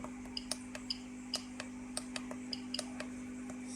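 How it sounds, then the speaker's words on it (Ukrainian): A Geiger counter dosimeter with its alarm switched off ticks irregularly, sharp isolated clicks spaced unevenly a few times per second, close and clear over a steady low electrical hum. "Тепер ви будете чути клацання, сигналізація вмикатись не буде."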